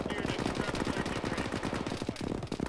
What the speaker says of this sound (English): I brought a machine gun.